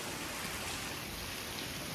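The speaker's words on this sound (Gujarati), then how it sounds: "કાલનો વરસાદ ચાલુ છે" Steady rain falling, a continuous soft hiss with no breaks, fairly quiet and even throughout, with no voices.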